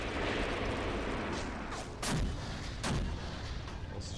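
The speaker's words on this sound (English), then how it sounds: "And I think we can definitely adjust our artillery fire." Artillery fire in the tank battle game Graviteam Tactics: Mius Front, two or three sharp booms about a second apart cutting through a constant battlefield rumble, no talking.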